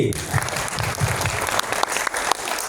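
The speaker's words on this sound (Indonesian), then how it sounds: "Tepuk tangan lagi." Audience clapping at a leadership meeting in Surabaya, a steady dense burst of applause from a room full of people lasting a few seconds, with faint voices mixed in.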